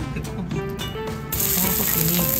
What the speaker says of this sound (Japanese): 具だけを先に炒めます。